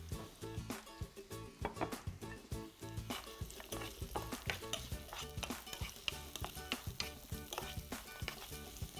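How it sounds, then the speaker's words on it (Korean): Onions stir-fried over moderate heat in a pan for mushroom japchae, with a constant soft sizzle and rapid, repeated stirring clacks and scrapes, close and with no one speaking. "양파는 너무 세지 않은 불에서 볶아주도록 할게요."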